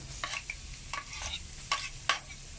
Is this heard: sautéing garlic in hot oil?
yes